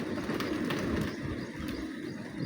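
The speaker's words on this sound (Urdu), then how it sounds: "دانہ کھا رہی ہے کبوتر" Pigeons feed on scattered grain on a rooftop during the rainy season, with soft cooing and faint bird calls over a steady, muffled background murmur.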